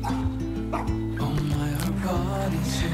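A dog barks and yips in quick bursts over a steady, humming tonal background, close and fairly loud throughout.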